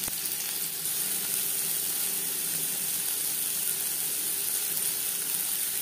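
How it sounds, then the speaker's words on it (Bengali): Chopped onions fry in hot refined oil with a steady, loud, close sizzle and crackle that continues without a break and has no talking over it. "পরিমাণ মতো রিফাইন্ড অয়েল গরম করে নিয়েছি। দিয়ে দেবো পেঁয়াজ কুচি।"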